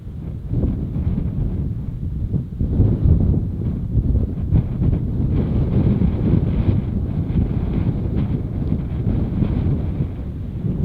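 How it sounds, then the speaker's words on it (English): Strong wind buffets the microphone at night in the Joshua Tree desert, a dense, low, continuous roar with gusty surges and no let-up, no voices. "Last night was just windy, and it's only supposed to get worse."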